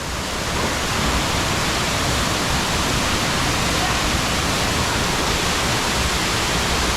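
Rushing water pours at Owia Waterfalls on St. Vincent, a loud, constant broadband roar that fills the scene without pause from start to finish.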